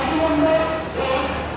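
Vande Bharat electric train approaching a station, a loud steady rolling rumble with faint tonal whine, heard close and continuous.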